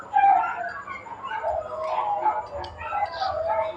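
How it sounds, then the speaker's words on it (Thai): A pet dog howls and whimpers in drawn-out, wavering cries mixed with yips, loud and continuous at close range, with a faint voice underneath. "น้องจะหอนอย่างนี้ทุกวันนะครับ"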